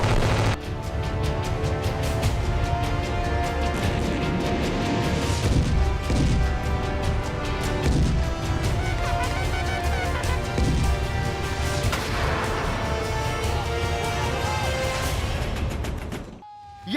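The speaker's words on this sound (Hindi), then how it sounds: "कहीं गोला बारूद की गूंज, कहीं जारी है हवाई धमाका।" Artillery and gunfire explosions at a border frontier, a dense, loud barrage of booms and bangs running continuously with heavy low rumble throughout, ending abruptly.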